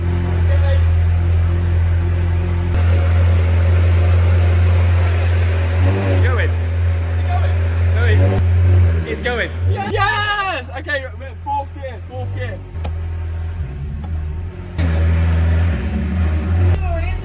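A crash-damaged, rebuilt Ferrari F430 engine runs steadily in third gear, a loud, continuous low drone throughout with people talking over it.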